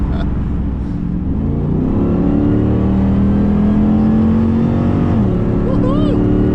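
Upgraded car engine droning and pulling hard up a hill from inside the cabin, a loud steady rising hum with the pitch climbing, while people talk over it.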